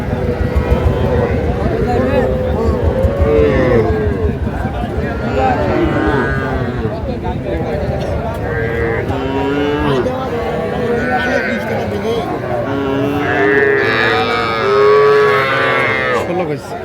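Heifer calves at a cattle market in Shariatpur moo repeatedly and loudly, overlapping one another against busy market chatter, with people talking throughout.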